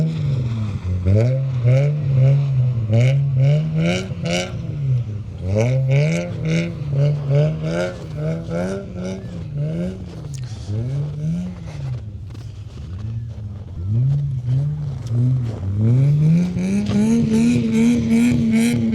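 A car drifting on ice, driven by an 8-year-old at the One Battle 2026 ice drift event, revs in rising and falling engine surges that loop continuously, loud and close throughout.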